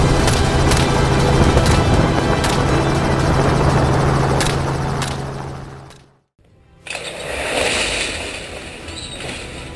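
Helicopter flying during a wild boar hunt, a loud steady rotor drone with regular blade thumps that cuts out briefly before a brighter engine roar resumes.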